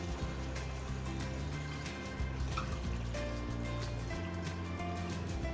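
Water is poured into a pot of simmering osso buco sauce, a steady liquid trickle and splash under continuous kitchen background noise, close and moderately loud.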